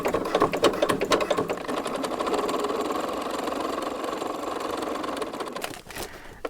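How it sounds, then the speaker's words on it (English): Sewing machine stitching hook-side Velcro onto the inside of a fabric brace, a steady close rapid needle clatter running for about six seconds before slowing and stopping near the end. "I'm stitching the hook side up Velcro on the inside of the brace"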